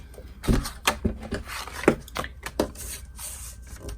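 A scoring tool drags along cardstock to make a half-inch score line, giving short close scraping strokes in uneven bursts with small knocks between them.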